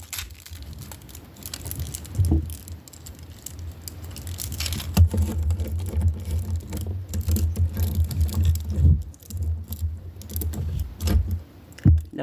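Knockoff Nemesis Prime Transformers toy figure having its plastic joints twisted and moved, giving crunchy, scraping clicks and ratchety rattles that come in irregular bursts against a low handling rumble, close up and without speech.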